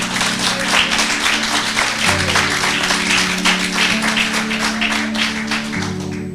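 A church congregation claps in praise, a steady, moderately loud patter of many hands over a sustained low musical drone or keyboard chords that shift a few times.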